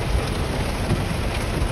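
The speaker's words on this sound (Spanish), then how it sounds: "Está lloviendo muy duro, sí." Dense, continuous rain pours down loudly and close, a steady roar with no pauses or voices.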